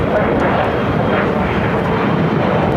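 Airliner taking off from runway 25 right at Los Angeles International Airport, a loud, steady broadband engine roar holding constant throughout, heard close with no talk over it.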